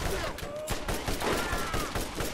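Rapid gunfire from a shootout in Borderlands, a fast burst of sharp repeated shots in quick succession over about two seconds, dense and moderately loud, with a faint voice underneath.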